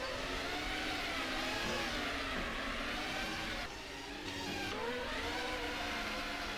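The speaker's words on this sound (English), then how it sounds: "there is Johnson doing some burnouts" Race cars roar continuously on the Singapore Street Circuit in a racing video game, engines droning and revving with rising and falling pitch during burnouts, loud and unbroken with a brief dip midway.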